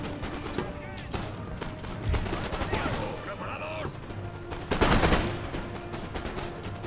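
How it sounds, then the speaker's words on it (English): Musket volleys crackle across a battlefield in the strategy game Empire: Total War, with rippling rounds of gunfire from massed line infantry and a louder burst near the end, amid general battle noise. "Opening fire on my lines."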